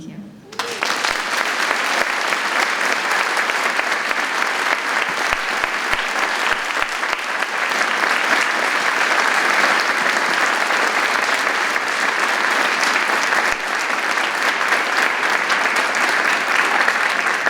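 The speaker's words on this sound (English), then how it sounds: "Another round of applause to all the winners" Audience at a VFW Voice of Democracy event in Ludlow, Massachusetts breaks into long, sustained applause for the speech winners, a loud, even wash of many hands clapping after a brief quiet start.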